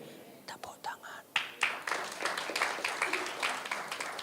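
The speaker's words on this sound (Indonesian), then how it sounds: "Tepuk tangan." Scattered applause from a church congregation during an online midweek worship service, starting sparse and building into steady, moderate clapping with murmuring voices underneath.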